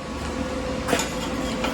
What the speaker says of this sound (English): My welder's running in the background.